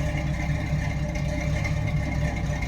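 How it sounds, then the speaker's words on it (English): A 1968 Pontiac Firebird 400 engine with Flowmaster exhaust idles with a deep, low, steady burble, close by and unbroken, with no voices. "Nice, deep, low idle to it."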